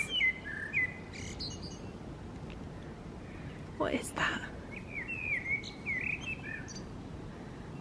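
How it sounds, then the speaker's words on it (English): Bird chirps and whistled calls scattered across a garden, moderately near, with a brief spoken question in the middle. "Can you hear the birds?"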